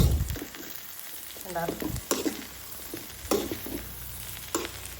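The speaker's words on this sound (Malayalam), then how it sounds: "ഒരു പ്രാവശ്യം ഇളക്കിയിടാം. സാധനം ഇളക്കി ഉണ്ടെങ്കിൽ കോളിഫ്ലവർ കത്തിക്കരിഞ്ഞു പോവും." Cauliflower with egg sizzles and fries in a pan while being stirred, with scraping stir strokes over steady frying hiss; a brief word is spoken.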